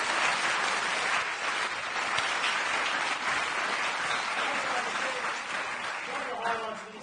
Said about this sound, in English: Can we please give our panel a massive round of applause?